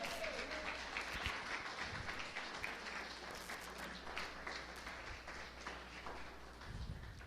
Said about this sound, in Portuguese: Palmas ao Senhor absoluto